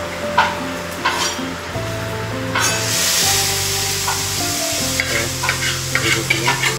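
Kashmiri chili powder sizzling and frying in a pan of palak paneer gravy, with steady close sizzle and occasional stirring scrapes, no talk.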